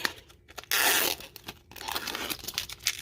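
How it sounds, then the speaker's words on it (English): Protective film is peeled off a Ringke phone case, close crinkling and tearing with one sharp, loud rip in the middle and softer crackles around it, no voices. "I'm going to find a corner like that, and I'm just going to peel away."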